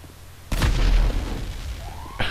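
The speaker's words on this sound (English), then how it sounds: "Oh, explosions everywhere." Explosion in the GTA V Online video game, a single heavy boom with a deep low rumble that rings out, followed by a rising whine and another sharp burst at the end.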